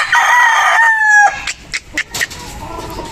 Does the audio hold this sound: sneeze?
no